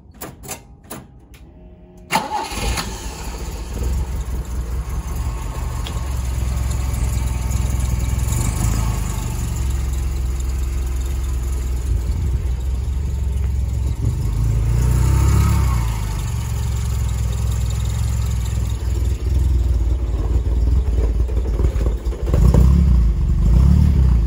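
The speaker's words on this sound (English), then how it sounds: "Engine runs real good." A 1969 BMW 1600-2 engine cranks and catches after a couple of seconds, then settles into a steady, rumbling idle that runs on evenly at close range.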